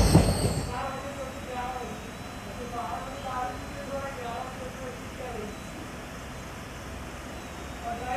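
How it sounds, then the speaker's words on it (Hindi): The Jabalpur Chanda Fort Express comes to a stop near Binaki station, giving a brief loud jolt and then a steady low rumble with faint wheel squeal. A voice talks over the train throughout. "ट्रेन अभी दोस्तों बिनाकी रेलवे स्टेशन के पास रुक चुकी है"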